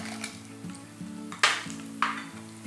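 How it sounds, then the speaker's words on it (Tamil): Garlic, cumin, fenugreek and dried chillies fry with onion in a pan, making a close sizzle broken by two sharp spatula scrapes, with soft background music underneath. "ஸோ இதை வதங்கிட்டு இருக்கும் போதே நம்ம வந்து பூண்டு ஆட் பண்ணிக்கிறேன், சீரகம், கொஞ்சோண்டு வெந்தயம், காஞ்ச மிளகாய்."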